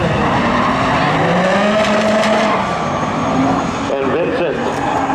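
Race cars roar loudly past in spectator drag racing at Seekonk Speedway, their engines rising and falling as they pass, with a commentator talking continuously over them.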